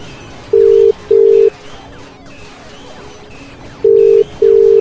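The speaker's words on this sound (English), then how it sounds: "Come on. Come on. Answer your phone, Vanellope." A telephone ringing out on the line while the caller waits for an answer: two pairs of short ringback tone bursts, separated by a quiet pause, clear and alone without talk.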